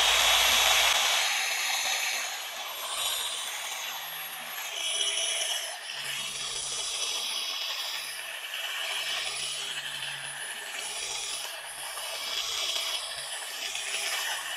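A car polishing machine runs with a continuous high whirring drone, its speed rising and falling as it works compound into automotive paint, heard up close with no talk over it.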